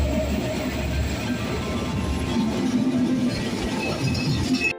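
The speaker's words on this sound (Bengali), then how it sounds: "শুনশান স্টেশনে ট্রেন আমাদের ফেলে হুশ করে চলে গেল।" Continuous heavy rumbling and rattling of a train passing through a quiet station at close range without stopping, steady in loudness throughout, with no voices.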